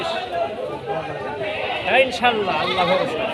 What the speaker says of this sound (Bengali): তো ইনার হচ্ছে ছাগল